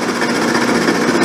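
A milling machine takes a 40 thou deep cut across a cast iron camel back straight edge casting, giving a steady, loud, continuous grinding chatter close by with no pauses or talk.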